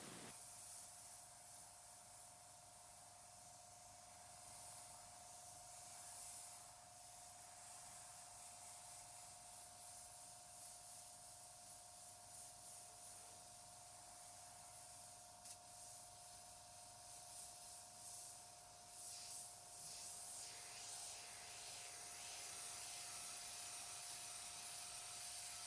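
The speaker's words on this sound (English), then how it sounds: "The airbrush sprays nicely, but my paint isn't right in terms of dilution." A Border Model Black Flame 0.3mm airbrush spraying paint at slightly lowered pressure, giving a steady, faint, continuous hiss with a low hum underneath and occasional small fluctuations, heard alone with no talking.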